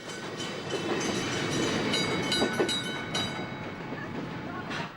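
A last train passes through Wodonga near High Street, a loud sustained rumble with rattling clatter that swells across the middle of the clip and stays steady to the end.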